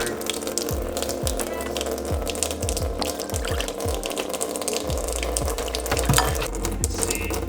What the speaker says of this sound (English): I'll just run the vinegar through.